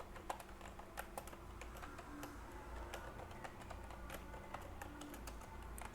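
Rapid keystrokes on a computer keyboard while code is typed, a close, quiet stream of irregular clicks and taps over a faint steady hum.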